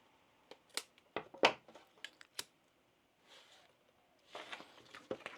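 Scissors trimming the edge of zipper tape while sewing a tote bag: a handful of crisp, close snips in an irregular rhythm, followed by a softer rustling of fabric.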